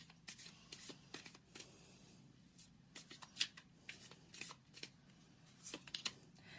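Tarot cards shuffled by hand in short, crisp riffling bursts, the papery slaps coming irregularly and fairly close, with no talking over them.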